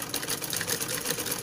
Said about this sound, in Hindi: इसके किनारे किनारे पे बारीक बारीक हमें सिलाई करनी है।